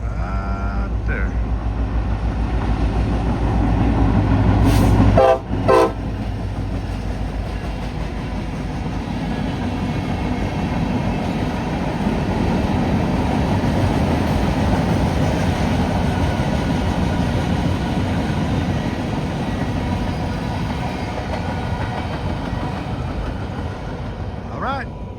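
A CSX freight train rolls past on a double main line, a steady broadband rumble lasting the whole stretch with a couple of brief sharp bursts near the start, while people talk faintly in the background.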